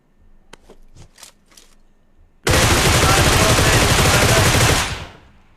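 Sustained video game gunfire, a dense loud burst of automatic shots lasting over two seconds, preceded by a few sharp clicks and taps, with no talk over it.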